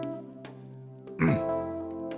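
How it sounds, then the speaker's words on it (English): A character in the Tokyo Babel visual novel clears their throat once with a short, rough burst, standing out over a quiet, steady musical backdrop. "I gave a sigh of relief and proceeded to clear my throat"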